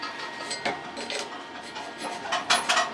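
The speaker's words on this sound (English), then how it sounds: "That's where the resonator is off of this pipe and smacking it." A loose exhaust resonator knocks and rattles against the pipe of a vehicle, giving a series of faint, irregular metallic clinks and taps with no talking.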